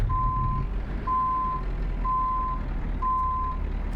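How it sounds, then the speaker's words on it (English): A truck in Euro Truck Simulator 2 reverses with four evenly spaced, steady reversing beeps sounding over a continuous low engine rumble, with no speech. "let's go ahead and get the truck turned around"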